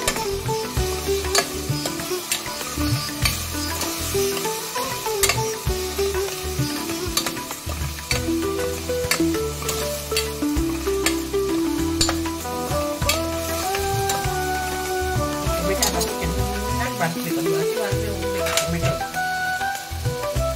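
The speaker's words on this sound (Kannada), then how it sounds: "ಟೊಮೆಟೊ ಚೆನ್ನಾಗಿ ಫ್ರೈ ಆಗಿದೆ" Tomatoes and green chili frying in a pan, a loud continuous sizzle with stirring scrapes and clinks throughout, and music or faint voices underneath.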